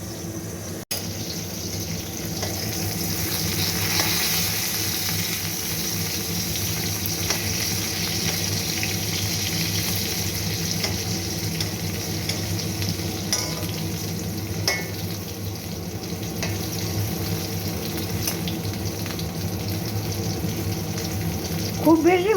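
Pointed gourd (potol) pieces fry lightly in a pan for a sesame-poppy seed posto dish, giving a steady, even sizzle that runs throughout with faint background kitchen noise and no speech.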